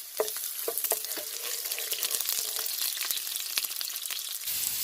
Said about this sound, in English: you want to go ahead and add your garlic and your pimento peppers. And you just want to stir.